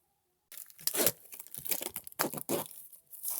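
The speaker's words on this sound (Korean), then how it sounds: "한번 이렇게 뜯어볼게요." A package opened by hand, with bursts of tearing and crinkling packaging material at close range, several sharp rips separated by short pauses, no voices.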